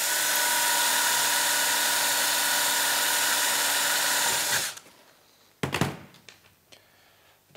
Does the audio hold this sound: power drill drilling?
yes